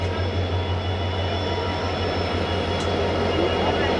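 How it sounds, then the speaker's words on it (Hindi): A WDB4D diesel locomotive hauling the Sabarmati Express gives a steady, heavy low rumble and drone that stays constant and fairly loud throughout, with no clear voices. "WDB4D locomotive"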